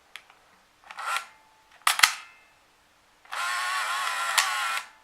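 Mechanical clicks and a sharp shutter snap from a Canon AF35M II Autoboy film camera up close, followed by a steady whirring motor drive for over a second.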